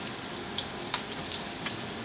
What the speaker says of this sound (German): Ich tue hier das Fett in die Pfanne, wo wir gleich die Schnitzel braten